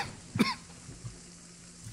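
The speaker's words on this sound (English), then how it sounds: "Sorry, I'm coughing so much." A person who has been sick for a week gives a single short, sharp cough near the beginning, close and fairly loud, then the room goes quiet apart from faint background shuffling.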